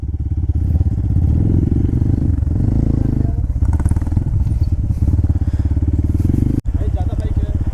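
Nine motorcycles' engines rumble loudly and steadily throughout while off-roading in a military camp, with a brief cut near the end, while voices talk over it.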